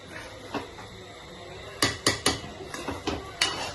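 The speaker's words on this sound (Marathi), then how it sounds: "त्याला पण आता चांगलं हलवून घेऊया व्यवस्थित असं" Chicken khichdi being stirred in a pot, with a spoon scraping and clinking against the metal in a quick burst of three sharp knocks followed by softer, irregular scrapes.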